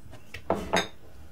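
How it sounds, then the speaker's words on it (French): Chopped onions tipped into a frying pan with olive oil, heard as two quick, close clattering thumps a quarter second apart, with no voices. "Ensuite, je verse mes oignons dans la poêle."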